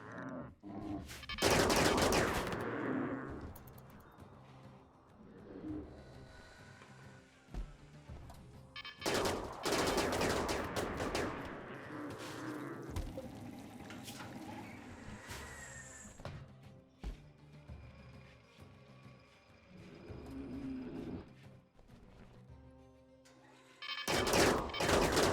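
Automated turrets in a video game fire in several loud bursts of rapid gunfire, separated by quieter stretches of game noise, with a final burst at the end.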